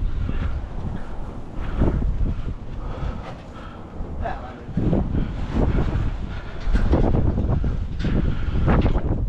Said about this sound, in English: And the wind.